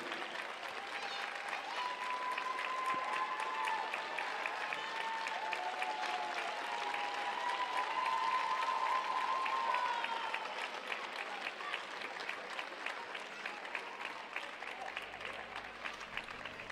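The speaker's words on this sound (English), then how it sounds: "good number of fans here today cheering on their local skaters" Arena crowd at a Kaunas ice dance rhythm dance event applauding and cheering steadily for Lithuanian skaters, a dense continuous wash of clapping that swells in the middle and holds for the whole stretch.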